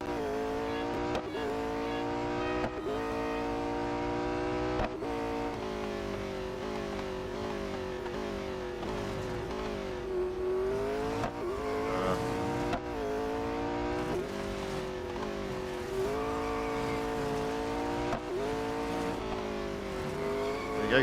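Race car engine and tyres from the Real Racing 3 video game roar steadily, with the engine pitch repeatedly climbing through gear changes and dropping again, and occasional tyre squeal mixed in.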